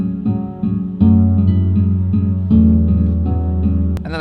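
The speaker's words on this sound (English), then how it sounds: "And then I added in this piano here." Piano part of a produced melody: sustained low and mid notes struck in a slow sequence of chords, ringing steadily with a brief bright accent at the end, with no voices.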